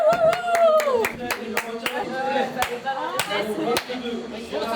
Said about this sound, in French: Merci de les applaudir très très fort.